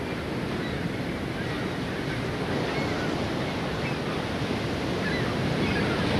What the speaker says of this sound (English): you gaze out over the deep ocean swells of the Great Southern Ocean towards Antarctica